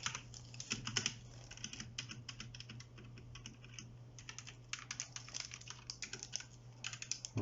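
Keys pressed on a HyperX Alloy FPS RGB wired keyboard with Kailh Speed Silver switches, a close run of irregular clicky taps with a few louder strikes, over a faint steady hum and no voice.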